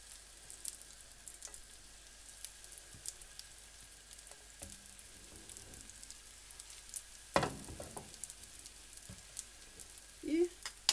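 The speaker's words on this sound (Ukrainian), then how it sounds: "Тепер на попередньо розігріту сковорідку викладаємо наші заготовки" A steady, soft sizzle of bread slices frying in a preheated pan, with occasional light clicks and scraping, close by and no talking.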